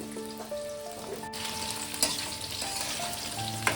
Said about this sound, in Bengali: তেল দিয়ে প্রথমে আলুটাকে আমি ভেজে তুলে নেব